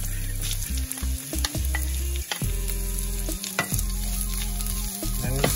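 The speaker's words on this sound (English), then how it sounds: "So first we're frying up some of the garlic and then adding the onions." Steady sizzling of garlic and onions frying in a pan, with occasional stirring scrapes and clatter, close and continuous.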